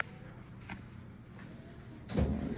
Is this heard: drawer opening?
yes